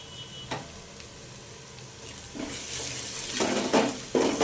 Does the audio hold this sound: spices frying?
yes